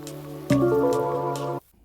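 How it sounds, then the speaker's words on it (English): Water is poured into a pot of browned pork for a Chinese stew, making a sudden close splashing gush that runs steadily for about a second before stopping. "Then add water, enough water to cover the meat."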